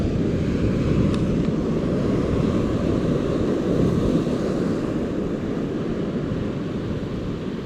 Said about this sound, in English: Problem is these waves also interfere.